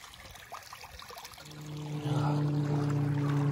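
Water pours through an opening in a beaver dam, starting as a light trickle and swelling after about two seconds into a steady, close rushing flow.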